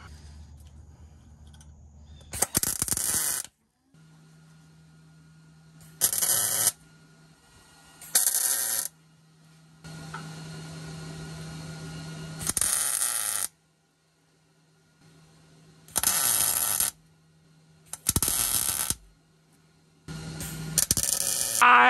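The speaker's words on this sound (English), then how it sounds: "I'm gonna get under here with the welder and tack this thing together." Short bursts of buzzing arc welding tack together an exhaust Y pipe on a car, with about seven separate crackling tacks between quiet pauses and a low electrical hum underneath. No one talks.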